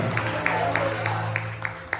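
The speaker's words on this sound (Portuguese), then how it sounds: "aplauda bem forte a Jesus" Church congregation applauding Jesus during a service, sharp rhythmic claps sounding about every third of a second, close and fairly loud over a steady hum and crowd murmur.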